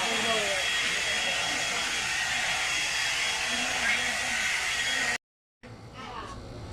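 A hair dryer blows with a steady, loud whoosh for several seconds, cuts out briefly, then starts again.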